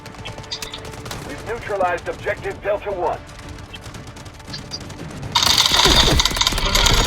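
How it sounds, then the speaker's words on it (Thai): Gunfire in the mobile shooter game Delta Force Mobile: dense, rattling automatic bursts that swell loud toward the end, mixed with a player's voice talking over the action. "โดนยิงหลัง"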